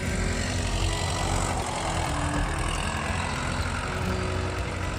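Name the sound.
Ford 500 tractor engine plowing a field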